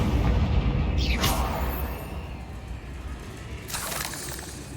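Two booming blasts from the Confringo fire spell in the video game Hogwarts Legacy, each a sharp burst with a crackling, shattering tail; the first lands near the start and the second about three seconds later, loud with no talk over them.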